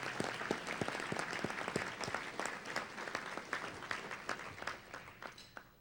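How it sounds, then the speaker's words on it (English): An audience at a sports hall of fame banquet applauds, a steady patter of many hands heard from a distance that fades toward the end. "Would you please join me in giving them a round of applause?"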